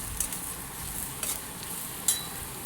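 Boiled potatoes stirred with turmeric and salt in a pan for batata poha, a faint steady sizzle with a few light scrapes of the spoon against the pan, no voices.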